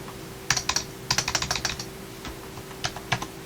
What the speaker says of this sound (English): even though it is a dome membrane keyboard, and that's the most common type of keyboard there is, it still works.